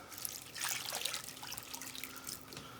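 Water from a gallon jug pours steadily into a dry desert reptile substrate mix, a continuous close splashing trickle with no talking.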